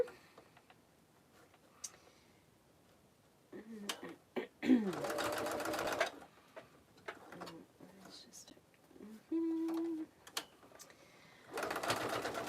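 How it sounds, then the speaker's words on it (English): Sewing machine stitching together belt bag pieces in a home sewing room, running in several short bursts of a few seconds each with pauses between, while a person talks during the gaps. "I'm just going to quickly sew this together."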